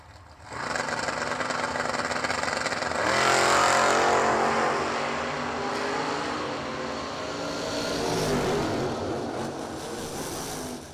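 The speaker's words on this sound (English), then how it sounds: "Kevin Stittle out of Canada, 1980 model Chevy Camaro right side, 690 the dial, and 568 for Chris Duffett in the Vega left side" A 1980 Chevy Camaro and a Chevy Vega launch side by side at a drag race. Loud engines roar and build through the run, then fade slightly and surge again, with no talking.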